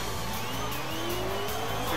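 A car engine in a racing video game revs and accelerates steadily, its whining pitch climbing continuously and loudly throughout, with faint tire noise.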